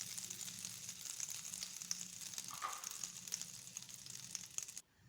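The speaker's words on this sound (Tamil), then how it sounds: "பட்டை இதெல்லாம் நல்லா செவந்து வர்றது வரைக்கும் வதக்கி விட்டுக்கோங்க." Cardamom, cloves and cinnamon sizzle in butter in a pan for paneer butter masala, a soft, steady crackling fry with faint stirring scrapes, close and quiet, no talking.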